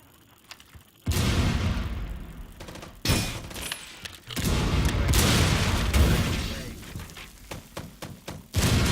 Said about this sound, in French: Frag grenade flying.